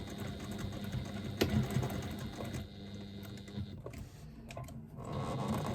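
A sewing machine stitches a pouch seam at a 3/8-inch allowance, its needle whirring in a quiet, rapid mechanical patter that dips briefly midway and resumes, faint and unaccompanied by talk.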